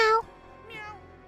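A short cat meow from the video game Rhapsody 3, a clear tonal cry at the start followed by a fainter second mew.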